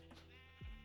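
A single Minecraft sheep bleats once, a short, loud, low wavering baa near the end of an otherwise quiet game soundscape.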